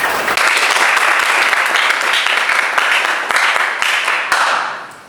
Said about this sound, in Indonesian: beri tepuk tangan untuk Esa.